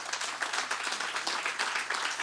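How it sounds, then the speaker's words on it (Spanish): A church congregation claps for the Lord, a dense and even round of applause from many hands heard from a slight distance, with no voices. "Denle un aplauso al Señor."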